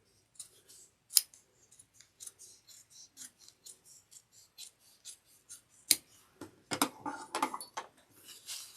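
Scissors trim a fabric seam allowance on a sewn bag, giving a run of sharp, close snips and crisp cuts, with a few louder clips standing out and no talking.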